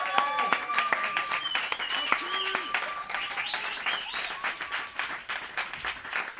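Applause from the audience at a university jam session concert, steady crowd clapping mixed with tonal music or singing and some voices over the top throughout.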